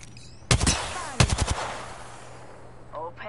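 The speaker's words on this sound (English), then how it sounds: "Oh, what y'all shooting?" Two short bursts of automatic gunfire in Apex Legends, a quick volley followed by a second rattling burst, then a fading tail with faint game sounds.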